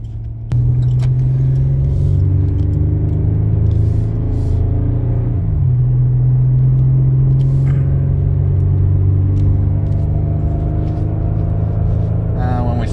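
A Chevy Colorado pickup truck pulls away uphill from a dead stop, its engine droning loud and steady with a pitch shift partway through as it gears up, heard from inside the cab.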